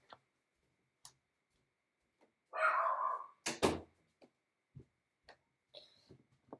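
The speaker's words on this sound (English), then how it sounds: "Sorry, that was my dog." A dog barks in a short burst of several loud, close yips and a howl-like cry midway, set among faint ticking and scattered small knocks in an otherwise quiet room.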